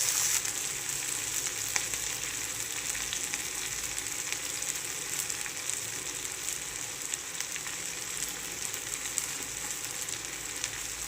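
Cluster beans fry in hot oil in an even, unbroken sizzling hiss, steady and moderately loud throughout, with no voices.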